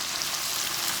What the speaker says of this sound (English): You just saute it, put it on high fire.